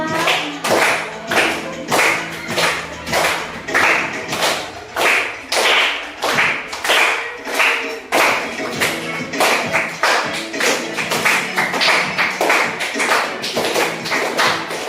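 Children clapping hands along to the song "Meong-meong" in a classroom, a steady run of sharp, loud claps in a regular rhythm that carries on throughout, close by and with no talking over it.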